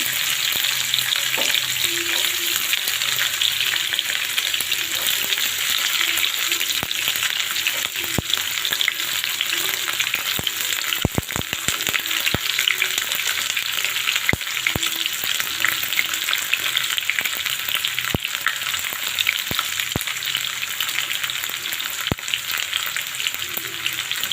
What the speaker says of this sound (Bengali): এক চুলায় তেল দিয়ে দিলাম, তারপর দিয়ে দিলাম পেঁয়াজ কুচি আর দিয়ে দিলাম রসুন কুচি।